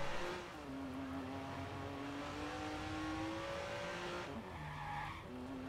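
A car in the Watch Dogs video game drives and accelerates, its engine droning steadily and rising in pitch over several seconds, with a brief shift near the end and a continuous loud roar throughout.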